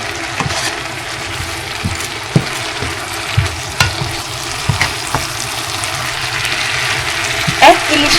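Hilsa fish curry sizzles and fries in a pan while it is stirred, giving a steady bubbling hiss with scattered scraping clicks of the spoon against the pan.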